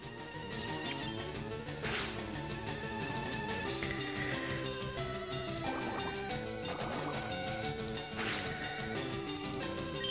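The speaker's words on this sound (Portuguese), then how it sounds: "Pulso de água." A Water Pulse attack effect from the Pokémon Fire Red video game plays as splashy, crashing bursts over continuous game music at a steady level.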